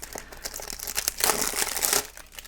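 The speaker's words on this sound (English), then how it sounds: "Let's go ahead and unwrap this." Plastic shrink wrap crinkling and tearing as it is pulled off a Xenoblade Chronicles 2 game box, a close, continuous rustle that swells into a louder crackling burst before easing off.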